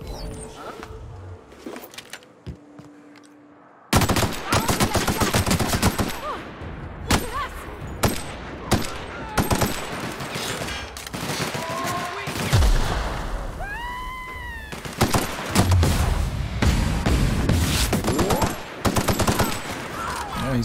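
A heavy-ammo weapon in The Outer Worlds fires sustained bursts of loud rapid gunfire after a quieter start, with scattered shots, impacts and a person talking over the action.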